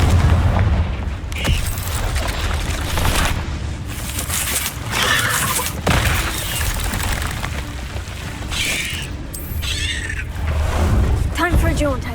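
In Hogwarts Legacy, the Confringo blasting spell sets off a rough, sustained burst of explosive rumble and crackle inside a maze of caves, with sharp cracks scattered through a dense, loud roar.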